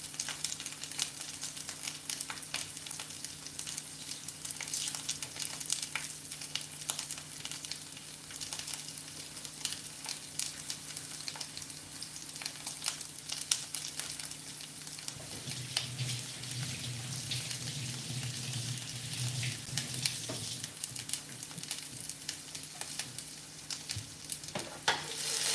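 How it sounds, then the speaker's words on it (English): Broccoli stems and garlic frying in a pan, a soft continuous sizzle and crackle with occasional stirring and clatter, fairly quiet and close, with no voices. "I'm letting the broccoli stems get a little bit golden while I chop up more garlic."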